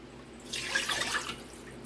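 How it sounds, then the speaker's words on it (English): Stock poured into a pan of broccoli for broccoli cheese soup, a short, close, splashing liquid pour rising in the middle and fading out. "Now I'll be adding the stock."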